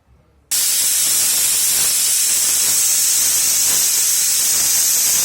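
After a moment of quiet, a loud continuous steam hiss bursts from a pressure cooker cooking a mixed-greens curry and keeps blasting steadily, close and harsh.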